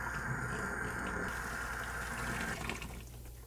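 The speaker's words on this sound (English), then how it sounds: "now that we have our roots all rinsed off" Water runs steadily from a tap or hose to rinse soil off live plant roots before planting a bioactive enclosure, a continuous broadband splashing flow that shifts in tone near the end.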